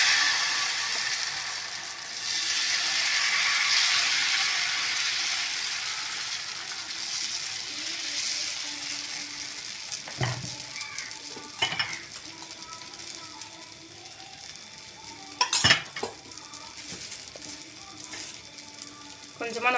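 Mint dosa batter cooking on a hot griddle, a soft steady sizzle that swells early and then fades, with a few sharp metallic clicks and knocks from utensils later.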